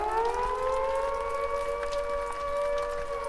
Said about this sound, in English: What's that siren for?